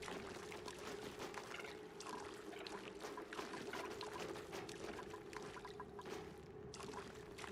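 Water pours steadily in the video game Oxygen Not Included, a continuous faint trickling wash with a steady hum underneath and no talk.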